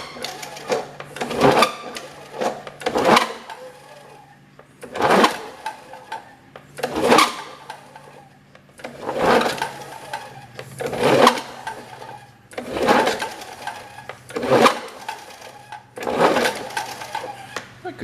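Recoil starter of a 1978 Lawn Boy Deluxe 19 two-stroke mower engine pulled over again and again, about nine strong rasping cranks at steady intervals, close and loud, with no firing in between.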